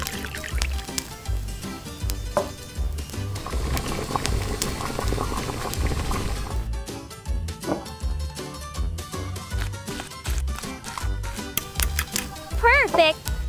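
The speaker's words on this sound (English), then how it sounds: "Let's wash rice. Boil it up." Rice boils in water for a miniature cooking scene, a continuous bubbling simmer under a soft musical backing. Small clicks and chirps sound near the end.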